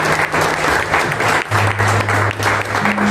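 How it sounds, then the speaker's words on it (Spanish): A church congregation claps loudly and continuously in dense, sustained applause, with a low musical hum beneath. "Si tú crees, dale un aplauso a Dios."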